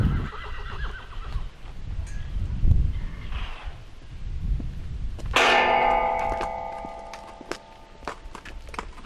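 A horse called Pal whinnies loudly and close by, a long neigh with a shaky tail, after dull hoof thuds and soft footsteps on the ground in the first seconds.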